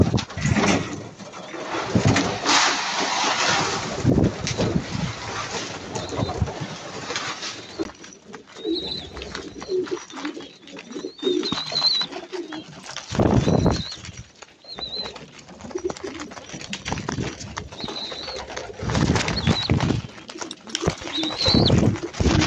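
Pigeons coo softly in repeated low calls amid rustling, occasional wing flaps and background noise, moderately close, with some faint voices now and then.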